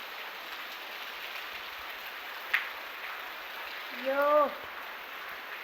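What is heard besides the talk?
rain falling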